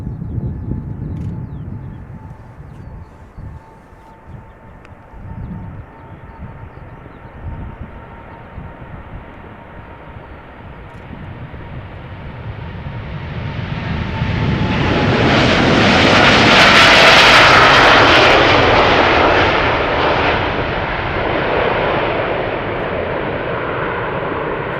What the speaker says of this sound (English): KLM Flight 601 on its way to LAX. 787-10 Dreamliner.